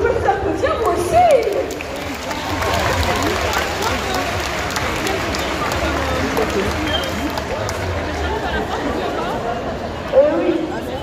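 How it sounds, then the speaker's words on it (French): An audience at a cosplay contest in Bordeaux applauds steadily, a dense wash of clapping and crowd chatter that carries on for several seconds, with occasional voices over it. "Eh bien, vous pouvez vous applaudir, vous aussi"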